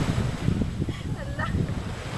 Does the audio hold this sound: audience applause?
no